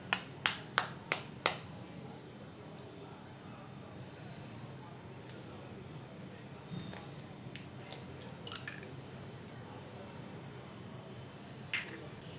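Eggs are cracked into a bowl, opening with four sharp, quick cracks in a row, followed by a few fainter taps and drips against quiet room noise.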